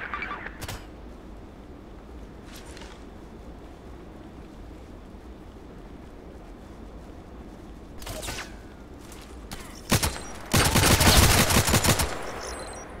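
Gunfire from a weapon in the Contract Wars video game: scattered single shots over a low ambient hum, then a louder burst of rapid fire near the end.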